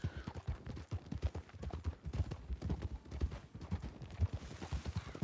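Horse hooves clip-clopping at a steady, fast riding pace in a Western role-play video game, a dense rhythmic patter of hoofbeats carrying through the whole stretch with no talk over it.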